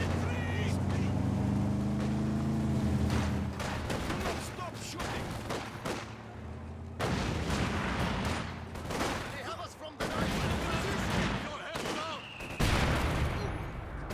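Gunfire and mortar fire in the video game Company of Heroes 2, with bursts of rifle and machine-gun shots and heavy blasts over rumbling vehicle engines, while a commentator talks over the action.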